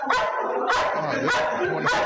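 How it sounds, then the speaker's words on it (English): A dog yelps and whimpers in four sharp, high bursts about half a second apart, loud and close, heard from playback of a recording. "The dog is still yelling."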